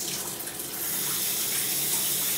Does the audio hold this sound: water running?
yes